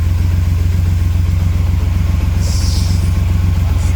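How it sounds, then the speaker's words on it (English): The 3½ litre engine of a 1938 SS Jaguar drophead idles steadily after carburettor needle and linkage adjustments. It makes a loud, even, low rumble with a regular pulse, and a brief hiss is heard partway through. "Look how nice it's idling."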